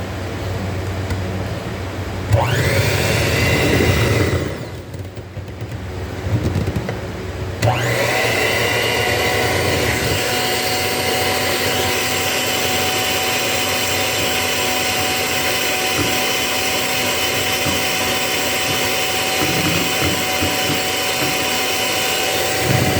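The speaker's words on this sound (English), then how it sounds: "the next thing we're going to do is go ahead and beat in our egg whites" An electric mixer whirs steadily while beating egg whites into a batter, a loud constant motor drone that cuts out briefly for a couple of seconds, then runs on without pause.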